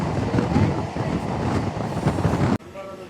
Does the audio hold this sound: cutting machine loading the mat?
no